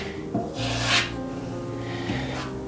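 Body filler is spread by hand across a Honda CB500 motorcycle fuel tank, producing soft scraping and rubbing strokes with a steady low hum underneath and a couple of brighter swipes.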